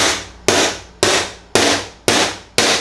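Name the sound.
screwdriver punching a hole in a flue pipe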